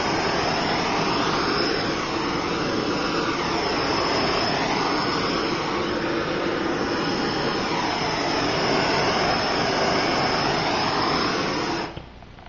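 A heat gun heat-seals cosplay armor foam, making a loud, constant blowing roar with a high whine that continues unbroken for about twelve seconds and then shuts off.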